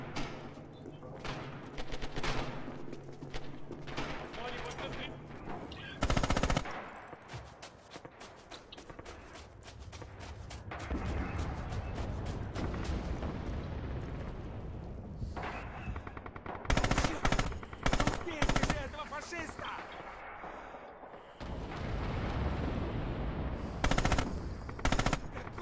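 MG-34 machine gun fire in Red Orchestra 2, with loud repeated bursts at close range separated by pauses and scattered distant gunfire and footsteps, while players talk over it.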